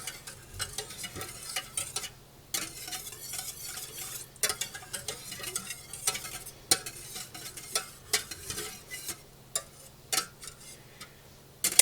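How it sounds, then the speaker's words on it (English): Turkey drippings melt in a pan with a soft, scattered sizzle, crackle and occasional clicks of a utensil stirring, all quiet and close with no talking. "We've got our drippings melting."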